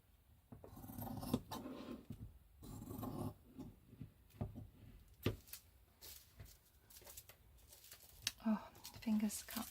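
Scissors snipping and rasping through a bubble mailer fabric tag, close and fairly quiet, with irregular cuts, rustling and scraping handling sounds, and a person talking at times.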